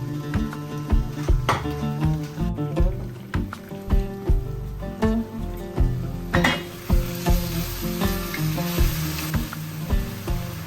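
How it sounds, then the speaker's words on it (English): Gravy bubbles and reduces in a pan over medium flame, a steady close sizzle with regular thick bubbling pops and occasional stirring knocks. "In this there's some gravy, so heat and let it reduce a bit."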